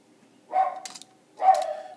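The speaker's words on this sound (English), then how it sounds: "And that's my dog." A pet dog gives two short excited barks or yips about a second apart, moderately close, with quiet room tone between and no talking.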